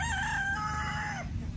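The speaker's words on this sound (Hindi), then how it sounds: "वो वहां से मुर्गे अपना चीख रहे हैं।" A rooster crows on a farm in Canada. One loud, close cock-a-doodle-doo lasts over a second, with barnyard fowl clucking faintly underneath.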